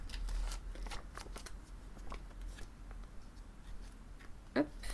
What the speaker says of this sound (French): je les mets toutes sous pochette